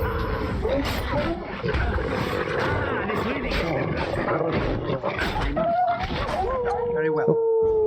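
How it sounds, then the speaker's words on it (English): Wolves in a Dragon Age: Origins battle give howls and snarls over a dense, noisy game soundtrack, with a few rising howl-like tones near the end and constant clash in the background. "Are these just wolves?"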